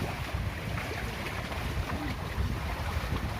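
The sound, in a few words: big waves on Jatiluhur reservoir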